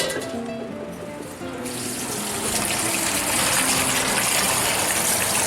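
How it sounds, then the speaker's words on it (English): Tap water gushes steadily into a sink as crab is washed under the running stream, a loud, continuous splashing hiss that grows fuller after the first second or so, with no talking. "now we need to go and wash that under running water"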